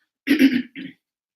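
A single throat clearing, a rough two-part cough, close and distinct, with silence around it.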